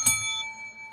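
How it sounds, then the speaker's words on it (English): A single bell ding rings out clearly near the start, its bright tone hanging and slowly fading over about a second, with faint rustling beneath. "Hey, both got bells."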